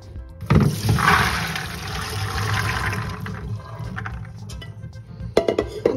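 Water drains from overnight-soaked chickpeas, a steady rushing pour that runs for several seconds and then thins out, ending with a few clattering knocks, close and alone with no talk.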